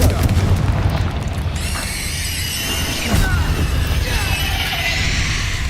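Confringo fire spell going off in Hogwarts Legacy: a heavy booming blast with crackling, whooshing tails, followed by further rumbling impacts and shimmering magical effects.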